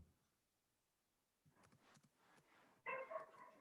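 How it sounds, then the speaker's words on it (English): A dog barks faintly in the background during an online banking technology session, a few soft distant yips after a quiet start, then one louder bark near the end. "that's my dog in the background"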